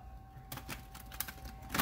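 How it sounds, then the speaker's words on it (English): A deck of tarot cards is shuffled up close, giving a quick run of crisp papery riffles and slaps over a faint steady hum. "One more shuffle."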